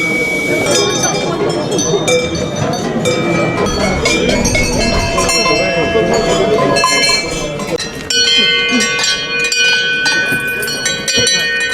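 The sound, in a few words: cowbells being tried out at a bell fair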